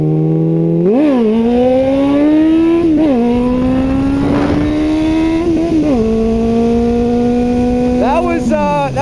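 Motorcycle engine revving hard during a wheelie, its loud, close pitch climbing and dropping through repeated surges of throttle, with a rider talking over it.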